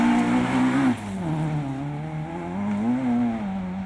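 A Nissan Micra rally car in the Micra Challenge on the Belmore Forest stage, its engine droning loud and close, pitch rising and falling through gear changes and throttle lifts.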